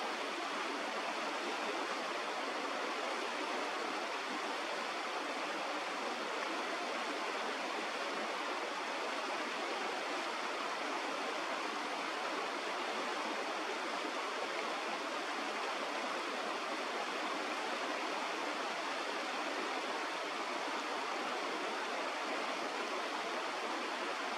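Fast-flowing water in Whitemud Creek, a steady, dense broadband rush that stays constant and close throughout, with no voices.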